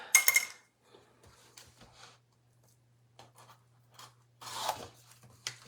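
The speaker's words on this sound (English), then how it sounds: "Guess I'll do it with my scissors." Scissors cut open a package of mail-order craft supplies, quiet short snips and crinkling bursts separated by near silence.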